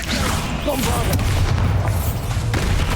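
A booming Bombarda explosion spell goes off in Hogwarts Legacy, loud low rumbling blasts with whooshing debris, while a voice speaks underneath.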